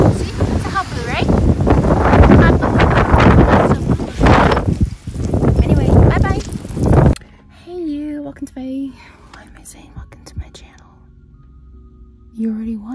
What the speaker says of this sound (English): There's rain, clouds everywhere, windy and everything.